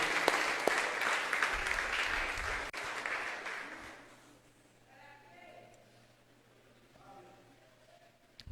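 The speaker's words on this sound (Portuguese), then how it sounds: "Pode aplaudir o Senhor Jesus, glória a Deus." Applause from a church congregation fills the first four seconds, then fades into a quieter room with scattered voices.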